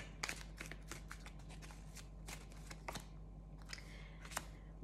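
Tarot cards shuffled by hand, a quick series of crisp riffling flutters and taps, close and fairly quiet, with no talking.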